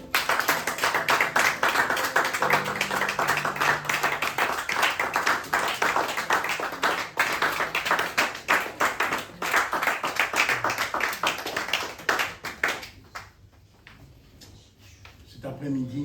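A church congregation clapping in praise to God during a worship service, a fast, steady, loud run of handclaps that fades out near the end into quieter background sound.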